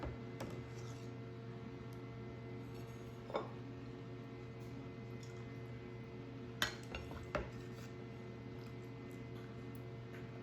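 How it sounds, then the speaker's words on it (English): Potato onion soup being ladled into a bowl, faint clinks of a ladle against pot and bowl, a few light knocks over a steady low kitchen hum, no voices. "So let's go ahead and put some in a bowl."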